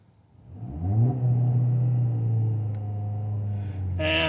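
A 2019 Ford Fiesta SE engine heard from inside the car, rising from quiet idle into a sustained loud rev that holds a steady droning pitch for several seconds.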